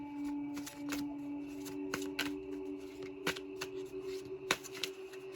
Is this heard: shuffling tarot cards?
yes